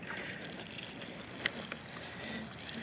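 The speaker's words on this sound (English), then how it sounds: "I'm gonna get me some water and put over those carrots" Water poured over a garden carrot bed on a frosty day, a steady soft splashing and gushing close by, alone and fairly quiet throughout.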